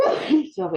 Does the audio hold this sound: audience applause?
no